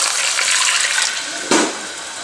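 A can of beef stock, about 14.5 ounces, poured into a pot with seared round steak: a continuous rushing pour that ends in a brief louder splash, close and without talk.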